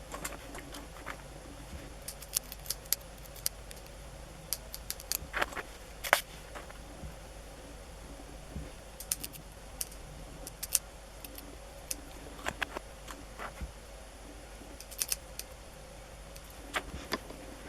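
Scissors snip through an American Girl doll's hair in short, crisp clicks that come at an irregular pace, close and fairly quiet, with no voice over them.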